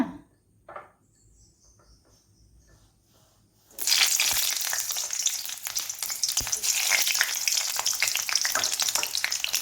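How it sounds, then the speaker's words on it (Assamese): Near silence with a faint tap, then two chillies hit a hot wok and a loud, crackling sizzle bursts up and continues steadily. "আমাৰ কেৰাহীটো গৰম হৈছে, গতিকে প্ৰথমতে আমি ইয়াত দিম দুটা জলকীয়া,"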